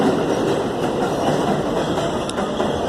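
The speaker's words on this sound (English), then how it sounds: "There's the 7 train." A New York City subway 7 train rolls past close by at 90th Street and Elmhurst Avenue in Queens, a loud, steady rumble of wheels on rails with faint clickety-clack running through the whole passage.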